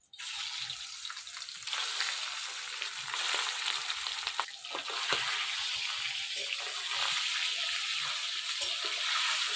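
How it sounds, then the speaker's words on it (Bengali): Fish frying in hot oil in a kadai gives a steady, close sizzling hiss that swells after a soft start and holds loud and even, with a few faint clinks mixed in and no voices. "এবার তেল দিয়ে দিলাম, মাছ ভাজবো।"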